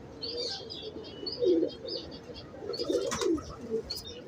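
High flyer pigeons on a Lahore rooftop coo in low, soft bursts, two clearer phrases standing out over steady chirping and light outdoor background noise.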